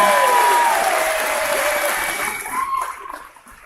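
At a 12th grade graduation ceremony, the crowd gives loud applause for the school's athletes. Broad clapping dominates at first, then fades over a few seconds, with a whistle-like tone briefly audible over it.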